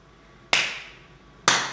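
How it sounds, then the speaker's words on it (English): Two sharp, loud hand claps about a second apart, each ringing out briefly in an otherwise quiet space. "Clap us in."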